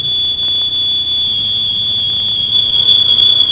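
Smoke alarms set off by a burning couch emit a single loud, piercing high tone that holds steady throughout, with brief dips near the start.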